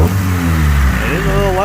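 A Honda CRX Si engine with its intake disconnected revs loudly and close up, with a throaty drone that rises in pitch toward the end.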